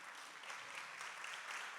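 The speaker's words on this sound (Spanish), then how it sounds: "Un aplauso para los actores." An audience applauds the actors after a Spanish-language church performance, giving a brief, steady, faint wash of many hands clapping at a distance with no voices over it.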